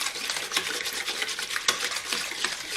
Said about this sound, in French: vous allez venir mélanger jusqu'à ce que la levure soit bien dissoute